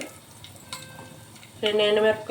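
Mustard seeds, cumin and fenugreek tempering in hot oil, with a quiet stretch before a sudden loud burst of crackling spluttering that carries on close by to the end.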